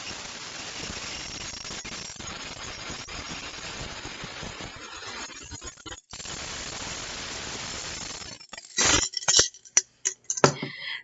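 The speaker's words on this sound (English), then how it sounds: "we're going to pour some of our marbles into our glass containers. And it will be a little noisy" Glass marbles poured into glass containers for a mermaid garden craft, a steady dense rattling clatter for about six seconds, then sparse sharp clinks and a few louder settling knocks near the end, with no talking.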